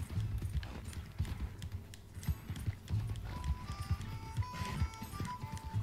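Horse hooves clip-clop in a steady rhythmic gait in the game Red Dead Redemption 2, close and moderately loud, with faint other game sounds around them.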